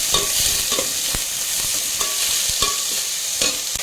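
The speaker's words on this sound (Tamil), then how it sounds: "வெங்காயத்தை இதில் சேர்த்துடலாம் வதக்கிட்டுடலாம்" Onions sizzling in hot oil with mustard seeds, urad dal and broken dried red chillies, with a steady bright hiss and repeated sharp scrapes of a spatula stirring the pan.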